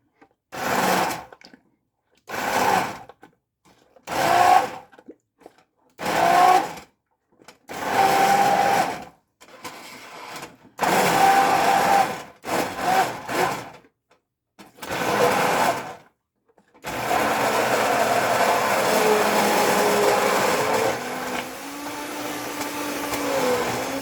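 Immersion blender whirring through cooked red split peas and onions, first in a run of short loud pulses, then settling into one long continuous blend with a shifting motor pitch toward the end.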